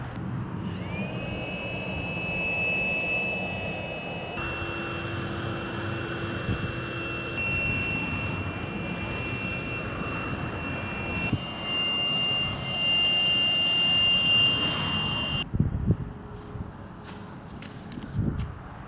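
An electric pump inflating an inflatable kayak during van life travel drones steadily with a whining motor hum that shifts pitch in steps as the air pressure builds, close and continuous, ending with a few handling knocks.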